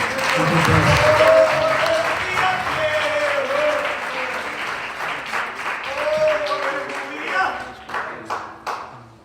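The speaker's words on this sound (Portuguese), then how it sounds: "Uma salva de palmas." Loud applause from a church congregation during a worship service, a dense wash of clapping that swells early and then thins into scattered, separate claps toward the end, with voices calling out over it.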